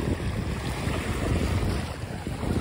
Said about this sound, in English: this wind picked up out of nowhere today